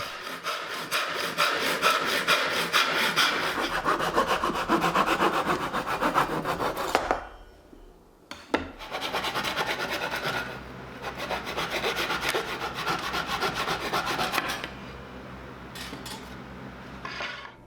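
Close, steady back-and-forth hand sawing through an ash wood board, rough rasping strokes in a continuous rhythm, with a brief pause partway through before cutting resumes.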